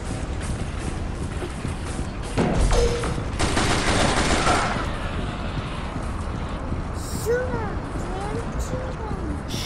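Bursts of rapid gunfire from the first-person shooter video game Dead Trigger, a dense volley near the start and scattered shots later, with a background game soundscape.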